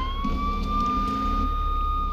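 Police car siren in the video game Grand Theft Auto III, a steady loud electronic wail holding a nearly constant pitch, with a low engine rumble underneath.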